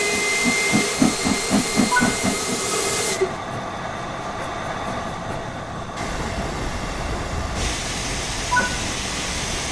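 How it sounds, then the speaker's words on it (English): Steam hisses steadily from the open cylinder cocks of a steam locomotive in Train Sim World 4, a loud continuous rush with a few rhythmic chuffs at the start. "Open the cylinder cocks to remove any water from the cylinders."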